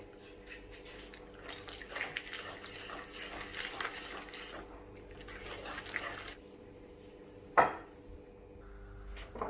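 Vanilla cake batter being mixed and beaten in a bowl, soft irregular stirring and scraping noises at low level, ending in a sharp clink near the end.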